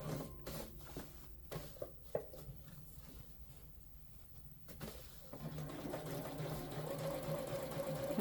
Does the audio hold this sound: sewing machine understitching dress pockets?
yes